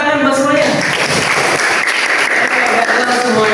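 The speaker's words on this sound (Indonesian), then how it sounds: "tepuk tangan buat semuanya." Children clapping together during a Simon Says game in a classroom lesson, a loud burst of quick applause with an adult voice speaking over it at the start, then claps continuing steadily.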